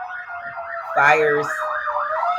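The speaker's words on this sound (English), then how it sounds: "Sorry about the sirens" A loud wailing siren sweeps up and down continuously, with someone speaking briefly over it.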